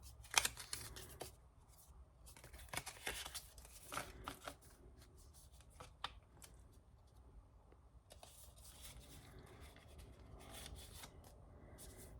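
Scissors cut through paper booklet pages. Close, quiet snipping and rustling comes in scattered bursts and goes on with no talk.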